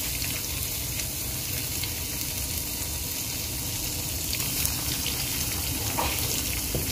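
Cheese frying in oil in a pan, making a lacy cheese basket: a steady, even sizzle with fine crackling throughout, close and moderately loud, with no talking.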